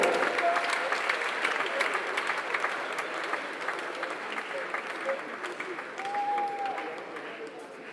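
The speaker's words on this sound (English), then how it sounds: "let the applause flow, let the applause flow" An audience keeps applauding a president at a Ghanaian event, a thick, continuous wash of clapping that slowly eases in loudness, with occasional whistles and voices within the crowd.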